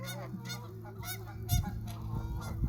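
Birds at Henderson Lake in Lethbridge, Alberta, being fed birdseed, with goose-like honks and calls repeating close by, overlapping in quick bursts over a low background rumble.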